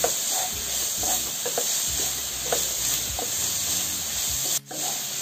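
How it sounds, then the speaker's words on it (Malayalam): Onion sautéing with salt in a pan for tuna thoran, a steady close hiss and sizzle with scraping stir strokes and a brief break near the end, no voices. "ഉള്ളി പെട്ടെന്നൊന്ന് വഴന്ന് കിട്ടുന്നതിന് വേണ്ടി നമുക്ക് ഇതിനകത്തിലേക്ക് ഒരല്പം ഉപ്പിട്ട് കൊടുക്കും. നന്നായിട്ടൊന്ന് വഴറ്റിയെടുക്കാം."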